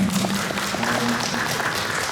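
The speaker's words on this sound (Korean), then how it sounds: "그 강덕호 선생님께 다시 한번 박수 부탁드립니다" Audience applause for a presenter at an academic conference on intangible heritage in Namwon, a moderate sustained clatter of clapping from a seated crowd, fairly even in level across the short stretch.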